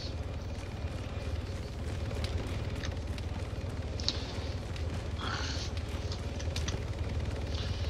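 Demolition charges and combat sounds in the video game ARMA 3, a low rumbling roar with scattered sharp pops and crackles layered over constant background noise.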